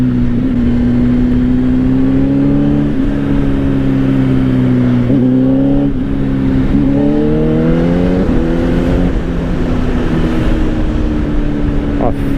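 A 2025 Honda CBR600RR sport motorcycle engine during a test ride with a misbehaving quick shifter: a loud, steady engine drone close by, with pitch rising and stepping through several gear changes under wind rush.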